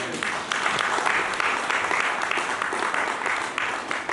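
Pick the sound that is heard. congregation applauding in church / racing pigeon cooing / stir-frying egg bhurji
congregation applauding in church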